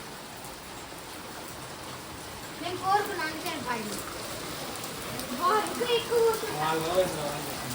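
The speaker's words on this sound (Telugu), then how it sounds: "చూసావు ఎంత వర్షం పడుతుందో" Dense, steady hiss of heavy rain falling, with voices talking over it partway through.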